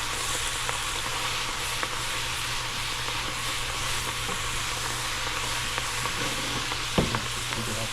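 Garlic sizzles steadily in a hot pan while being stirred, a constant close frying crackle with occasional scrape and clink of the utensil.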